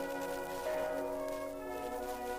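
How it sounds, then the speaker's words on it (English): Bells of Königsberg Cathedral ring out in a dense, sustained wash of overlapping tolls, steady and resonant throughout, with no voices. "the bells of the Königsberg Cathedral, where the great philosopher Kant is entombed, rang out"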